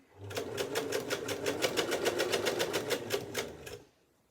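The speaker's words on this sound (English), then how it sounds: "while we're stitching, allow it to continue travelling through the machine at the speed the machine wants to go" Sewing machine stitching stretched fabric for a quilt-cover dress: a steady, rapid run of evenly spaced needle strikes, close and alone for nearly four seconds before stopping abruptly.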